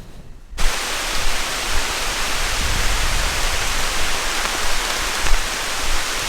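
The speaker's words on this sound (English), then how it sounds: "Oh, that rain feels so good." Rain falling on the Appalachian Trail in Pennsylvania, a dense loud hiss of steady downpour that starts abruptly after a brief quiet moment and continues evenly with occasional heavier bursts.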